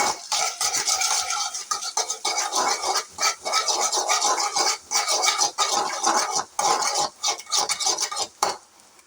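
A spoon stirs turmeric powder into an egg mixture in a pan, scraping and clinking steadily against the metal in close, continuous strokes with brief pauses, no voices.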